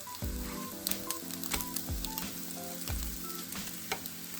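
French toast sizzling on an Ovente reversible griddle after flipping: a steady, close crackling sizzle with scattered pops and light scraping taps of a spatula, no talk.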